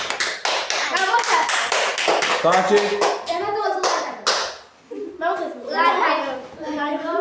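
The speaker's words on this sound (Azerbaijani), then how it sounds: "Yarışmacılarımızı bir alqışlayaq." Classroom applause for fifth-grade contestants at a school quiz competition, a dense run of hand claps that rises and fades, with children's voices talking over it toward the end.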